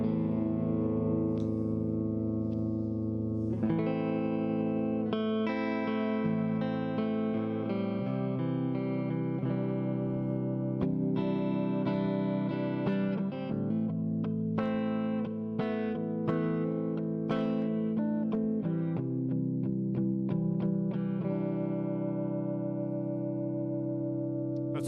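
Electric guitar played through an Orange 35RT amp on the clean channel with reverb added, using an SB100 guitar, sustained chords and picked notes ringing continuously with a lush tail, no talk.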